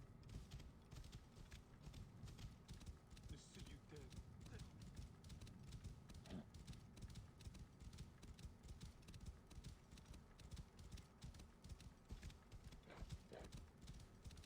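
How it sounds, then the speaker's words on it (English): Rhythmic clip-clop of horse hooves trotting along steadily in Assassin's Creed Origins, with faint clicks and other game sounds underneath. "My horse comes from nowhere, every time."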